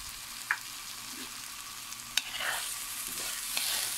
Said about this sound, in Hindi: अब इसको अच्छे से मिक्स करते हैं